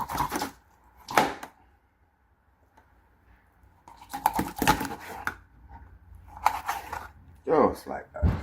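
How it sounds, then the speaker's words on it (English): A large fish being cut in two in a kitchen, with a few sharp knocking and chopping bursts separated by quiet stretches as someone talks throughout. "we're going to cut this big bad boy in two"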